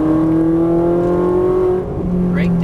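A Ferrari 458 pulls away under acceleration on a race track, its engine note a loud, steady drone that holds its pitch and then shifts lower near the end, with faint high whine above.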